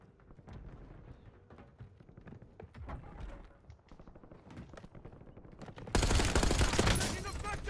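Gunfire in Call of Duty Black Ops 6 multiplayer, a run of clattering shots and impacts that swells into a louder, harsher burst near the end, with a voice underneath.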